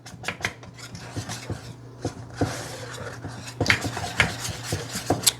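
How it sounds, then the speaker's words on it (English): Zucchini fry batter being stirred in a bowl, with repeated scraping and clinking of a utensil against the bowl in an irregular rhythm, close and fairly loud with no talking. "you want to stir that maybe about 1 to 2 minutes to get all the lumps out best you can"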